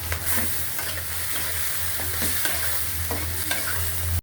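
Shrimp and chopped onion frying in oil, a loud, dense and continuous sizzle up close with occasional faint stirring knocks and a low steady hum beneath.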